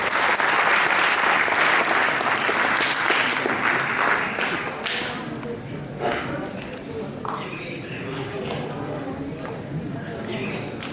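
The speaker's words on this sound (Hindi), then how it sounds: "जोरदार ताली बजा दीजिए।" An auditorium audience at a stage play gives loud, dense applause that fills the first few seconds and then thins into scattered claps as a voice begins speaking over it.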